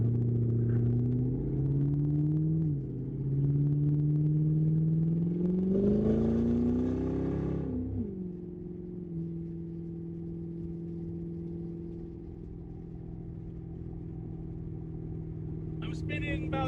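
Supercharged Coyote-swapped SN95 Mustang cruising in third gear around 2,500 RPM, a steady low engine drone that swells briefly under throttle mid-clip, then settles back to an even hum.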